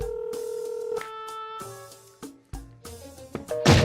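A landline telephone sounds a run of dialing tones: several steady beeps of differing pitch in quick succession, some clipped short, ending in a louder burst.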